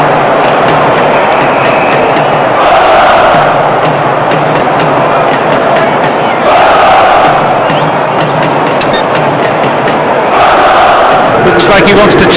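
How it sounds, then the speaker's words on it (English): Stadium crowd noise from the football video game Pro Evolution Soccer 2010, Barcelona against Real Madrid, rolls on as a loud continuous roar with rising swells of cheering, while a commentator talks over it. "The crowd starting to get impatient now."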